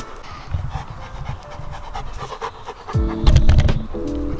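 A Leonberger puppy pants with quick breathy rhythm close to the listener, growing louder toward the end alongside a brief tonal sound.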